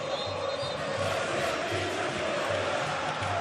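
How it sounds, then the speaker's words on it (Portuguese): Palmeiras supporters roar and chant together in a packed football stadium during a FIFA Club World Cup 2025 match against Porto, a steady, dense wall of crowd noise that holds loud throughout. "É um show da torcida do Palmeiras."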